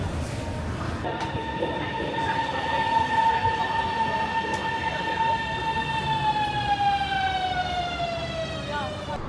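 A Shanghai subway train in a metro station gives off a steady electric whine over a low rumble; the tone holds, then slides down in pitch as the train slows, with faint station noise around it.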